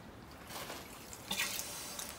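Water and air hissing and trickling through the small shut-off valves of a new self-watering garden system, a faint, steady bubbling flow that surges slightly louder near the end.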